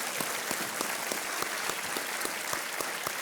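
A studio audience on the KBC quiz show applauds to welcome actress Vidya Balan, a dense, steady wash of many hands clapping that carries evenly through the whole stretch with no voices.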